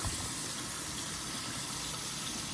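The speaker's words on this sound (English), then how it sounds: "Then you turn the water on" Water runs steadily from a sink faucet in a nursing school lab, a constant close, full gushing hiss with no pauses.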